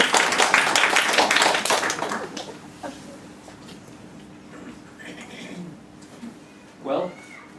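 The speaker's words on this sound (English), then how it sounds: "You can applaud, it's okay" Applause at a poetry reading: a burst of fairly loud clapping for about two seconds that quickly thins to a few scattered claps, followed by quiet murmurs and a brief voice.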